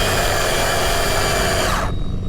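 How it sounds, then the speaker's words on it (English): A Hosim M13 RC car's electric motor screams at high pitch during a burnout, loud and close, then cuts off abruptly near the end, leaving only a low rumble. "just to make sure it'll still do a burnout."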